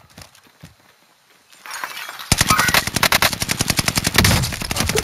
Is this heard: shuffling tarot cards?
no